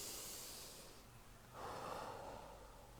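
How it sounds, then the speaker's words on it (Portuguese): A slow, deep breath in followed by a long airy exhale, close and soft, taken alone in a quiet room during a guided mindfulness exercise. "você vai respirar profundamente agora"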